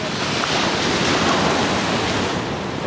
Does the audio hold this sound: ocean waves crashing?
yes